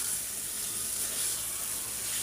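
Eggs frying in a pan for egg bhuna, a constant dense sizzling hiss, close and even for the whole stretch with no talking.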